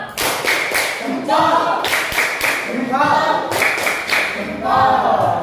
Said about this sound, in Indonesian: kita kasih tepuk jempol untuk kelompok luar biasa ya